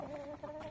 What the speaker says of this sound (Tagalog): meron kaming alaga ditong manok na 10 inahin, 2 tandang.